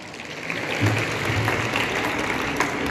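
Audience at a Marathi commemorative ceremony for Annabhau Sathe's birth anniversary and Tilak's memorial day claps steadily, a dense, fairly close ripple of many hands lasting the full few seconds without talk.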